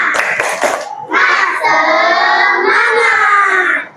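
A group of schoolchildren performs the "tepuk semangat" clap chant at a classroom icebreaker: a burst of quick rhythmic clapping at the start, then loud, sustained shouted chanting in unison from many young voices.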